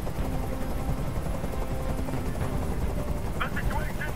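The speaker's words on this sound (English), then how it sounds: "Tell that helicopter to get out of here!" Helicopter hovering overhead during a rooftop hostage standoff in the video game Detroit: Become Human, a steady low rumbling drone throughout, with brief chirps near the end.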